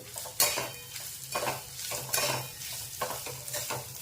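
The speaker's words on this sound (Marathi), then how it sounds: "आणि आपला हा ओल्या खोबऱ्याचा किस हे मी इथे परतून घेते" Grated fresh coconut sautéed in a pan for steamed modak filling, stirred in repeated scraping strokes over a soft frying sizzle, no voices present.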